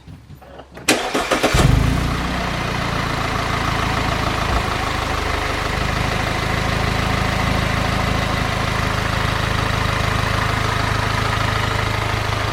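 An Audi A4 2.0T B8.5 with freshly replaced spark plugs and coils cranks briefly, catches, and settles into a steady, even idle heard up close, with no talking.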